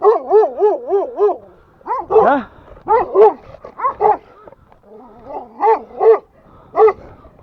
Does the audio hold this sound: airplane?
no